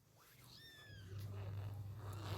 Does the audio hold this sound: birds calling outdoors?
no